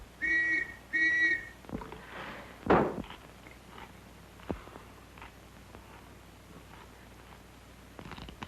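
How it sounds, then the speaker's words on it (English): Two short, clear blasts of a high-pitched whistle sound in quick succession, followed by quieter shuffling and scattered knocks in a 1934 film scene. "The whistle that was blowing just now."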